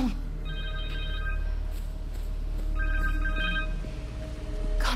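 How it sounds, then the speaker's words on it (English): A cell phone rings in the Spider-Man 2 video game, two bursts of an electronic ringtone over a steady background hum and game sound. "Connor's cell phone."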